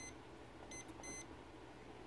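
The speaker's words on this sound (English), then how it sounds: "So I'll set the timer for 10 minutes." A kitchen timer beeps in two quick bursts of short high tones while being set for air-frying beef ribs, fairly quiet over low background hum.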